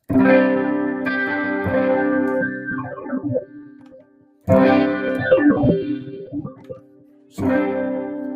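Electric guitar phrases through a Boss GX-10 drenched in a swirling modulation effect with distortion, played in three bursts separated by brief silences, ringing out with a wobbling, chorused tail.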